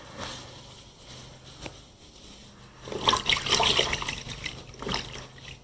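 Water is squeezed out of a very dirty air filter, giving soft liquid trickles and wet squishing that grow louder midway, close and fairly quiet.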